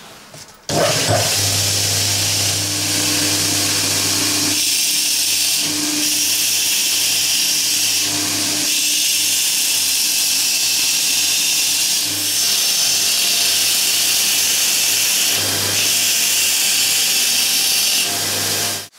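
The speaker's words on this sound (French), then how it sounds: "on va faire ce qu'on appelle le détourage. On va sortir la forme du couteau en elle-même." Power tool cutting the outline of a knife blank in a forge workshop, a loud steady whine with a continuous low drone that holds for the whole stretch, dipping briefly at a few points, with no talk.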